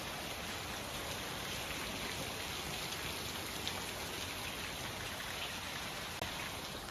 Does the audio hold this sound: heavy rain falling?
yes